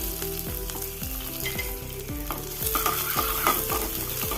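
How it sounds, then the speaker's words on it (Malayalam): Mustard seeds and thinly sliced small shallots frying in coconut oil for a raw banana and mango curry, a loud close sizzle with rhythmic scraping strokes of a spoon stirring the pan, no voices. "ഒരു ടേബിൾ സ്പൂൺ വെളിച്ചെണ്ണ വെച്ച് ഒരു ടീസ്പൂൺ കടുക് ഇട്ട് കടുക് കൂട്ടി വരുമ്പോൾ മൂന്നാല് ചെറിയ ഉള്ളി വട്ടത്തിലരിഞ്ഞ് ഇത് ഇട്ട് കൊടുത്ത്"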